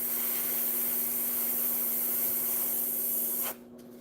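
Steady airbrush hiss as paint sprays onto a figure, a constant airy rush with a faint tonal whine that runs unbroken for about three and a half seconds, then cuts off abruptly to quiet.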